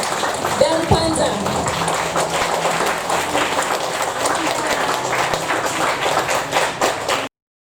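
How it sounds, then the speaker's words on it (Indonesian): A book launch audience bursts into sustained applause, dense and loud, with many hands clapping for about seven seconds before it cuts off abruptly; a voice is faintly audible beneath it. "kita tepuk tangan yang paling meriah dan panjang"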